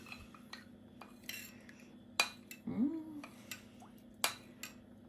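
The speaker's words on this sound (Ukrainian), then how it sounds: "Все гарненько, гарненько перемішуємо до однорідності." A spoon scrapes and clinks around a bowl while stirring a honey-mustard marinade with oil for chicken drumsticks: quiet, close, irregular taps with a soft swirling scrape in the middle.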